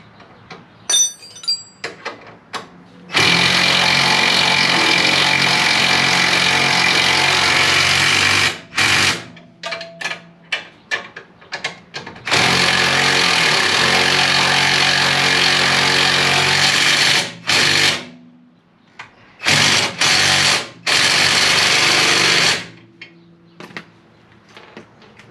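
An impact gun tightens suspension bolts on a Mk6 car in several loud, close rattling bursts, some lasting a few seconds and others brief, with quiet pauses and faint clinks between them.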